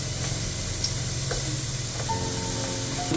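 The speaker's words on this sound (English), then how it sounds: "now straight goes in some onion" Onion dropped into a hot pan for a Thai yellow curry gives a steady, close sizzle with light stirring, no voices over it.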